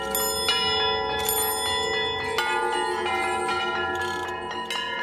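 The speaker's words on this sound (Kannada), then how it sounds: "ಆಗ ನಮಗೆ ಕೇಳಿ ಬರುವುದು ನಾವು ಮನೆಗಳಲ್ಲಿ ಬಳಸೋ ಕಾಲಿಂಗ್ ಬೆಲ್ ಶಬ್ದ." Stone musical pillars at the Vittala temple in Hampi are struck, giving repeated bright, ringing bell-like tones with long sustained overtones that overlap in a quick, uneven sequence, loud and alone without talk.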